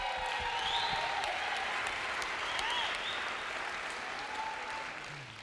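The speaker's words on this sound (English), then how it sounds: "Let's give another round of applause for the females." A crowd at the Ninja Challenge League Finals 2018 gives the female competitors a sustained round of applause, a dense, even wash of clapping with a little background crowd noise that slowly tapers off.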